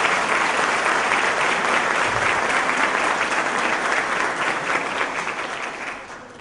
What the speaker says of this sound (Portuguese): a quem também peço uma dupla salva de palmas